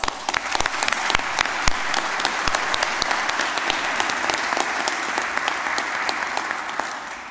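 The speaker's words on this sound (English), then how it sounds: "So we have a round of applause" Applause fills a graduation ceremony hall, a dense, steady wash of many hands clapping with a few sharper individual claps standing out, sustained throughout and tapering slightly at the end.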